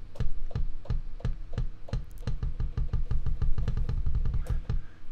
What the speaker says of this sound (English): So this one here is a kick drum, and it sounds like this.